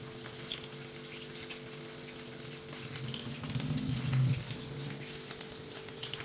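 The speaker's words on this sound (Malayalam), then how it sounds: "നമ്മളിവിടെ ചിക്കൻ ഫ്രൈ ചെയ്യാനിട്ടുണ്ട്" Chicken pieces for homemade orange chicken sizzle in hot oil, a steady fry that swells louder for a moment midway before settling back to a constant crackle.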